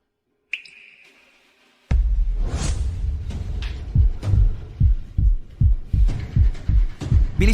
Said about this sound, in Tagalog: Bilis ng tibok ng puso